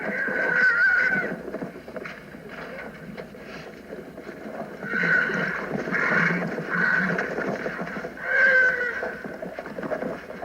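A horse whinnies in a few loud bursts amid scuffling and commotion, with hoof sounds and movement in between.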